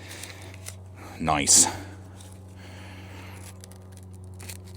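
A single quick push cut through material with a thick 1/8-inch Kizer EDC knife with a high saber grind, a short bright slicing burst rising over a steady low hum, with someone talking briefly afterward.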